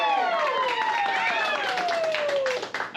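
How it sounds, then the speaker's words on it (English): An improv comedy show audience claps and cheers for a contestant, with lively crowd noise and whooping voices rising over the clapping before it thins out at the end. "A round of applause for Clayton"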